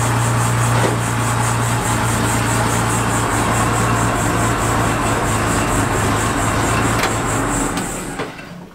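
Military vehicle engine idling steadily nearby, a constant low rumble with a droning hum that runs for several seconds before fading out at the end.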